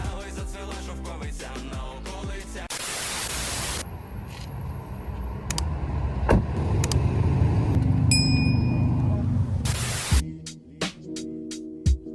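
A car drives through the US toward a client's estate with steady road and engine rumble, a few soft dings, and abrupt bursts of noise where the sound cuts.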